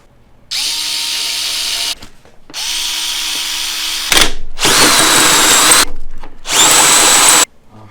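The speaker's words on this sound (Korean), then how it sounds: "지금 구멍을 2개 다 뚫었어요" Power drill boring two holes through metal for a custom water-cooling build, four loud sustained whirring bursts separated by short pauses, close up with no talking.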